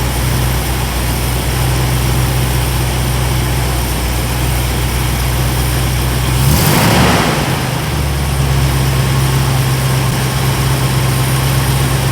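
A carburetted car engine idles steadily with a low, constant rumble, rising briefly in RPM and pitch for a moment midway during idle tuning before settling back to idle.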